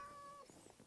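A short, faint cat meow from Minecraft, a couple of soft pitched calls following a steady tone.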